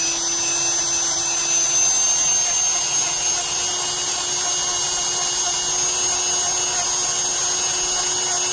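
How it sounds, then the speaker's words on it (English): A Dremel rotary tool grinds down thick toenails with a loud, steady high-pitched whir that runs without a break from start to finish, close to the listener. "let's Dremel these down here."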